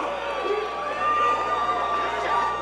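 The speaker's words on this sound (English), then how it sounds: "A lot of hostility coming from the crowd." A crowd at a WCFC cage fight event shouts and jeers in a steady, busy roar for a few seconds while an announcer talks.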